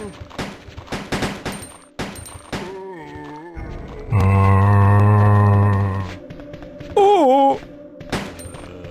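Gunfire in Resident Evil 2 on PS1: several sharp, loud shots in a quick burst, then further isolated shots among sustained game sounds, with a voice speaking briefly.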